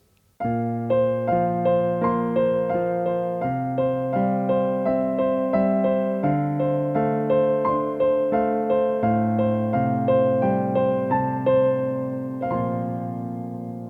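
A piano plays a repeating two-handed pattern, low bass notes under higher chords, in an even rhythm that carries on steadily before easing at the end.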